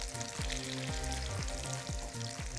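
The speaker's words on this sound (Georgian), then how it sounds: "გადმოვიტანოთ ტაფაში თინოსის სტეიკები." Tuna steaks, about 150 grams each, sizzle in garlic butter in a hot pan. The frying hiss is steady and close, with no voices over it.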